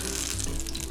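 Hoe cakes frying in hot oil, a dense close sizzle with crackling splatter across one short moment, no voices.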